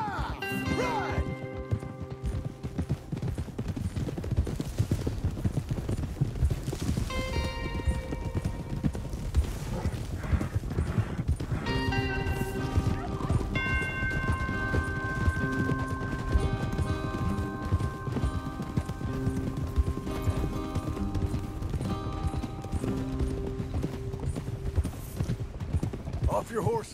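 Horses gallop with rapid clip-clop hoofbeats in the video game Red Dead Redemption 2, a continuous rhythmic pounding under a swelling musical score, with a horse neighing briefly and voices speaking at moments.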